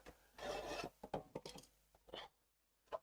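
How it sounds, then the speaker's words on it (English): Saw teeth being sharpened by hand with a file, a few close rasping strokes, one longer pull followed by shorter scrapes and a final brief stroke, quiet overall. "I sharpen these all by hand with a file"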